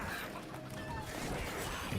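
Chickens clucking in the Warcraft Rumble video game, a dense layer of short fowl calls running steadily throughout under busy battle noise and effects.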